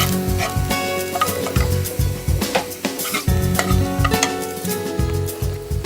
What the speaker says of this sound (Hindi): इसमें 2 कटे हुए प्याज डालते हैं। इसको हम पिंक करेंगे।